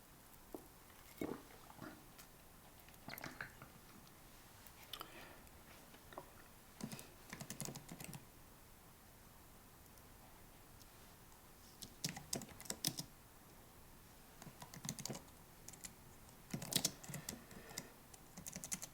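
Keys clatter on a computer keyboard in uneven bursts of quick typing separated by pauses, fairly close and moderately quiet, with no speech in the gaps.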